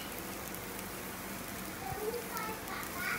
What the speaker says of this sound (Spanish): Está lloviendo, pero nosotros estamos adentro.